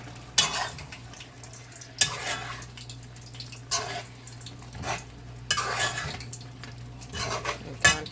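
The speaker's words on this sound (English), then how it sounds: "And then we are going to stir." Chicken liver with wine in a pan being stirred, several bursts of scraping and clinking utensil strokes against the metal, separated by short pauses over a faint sizzle, close and moderately loud, with no speech.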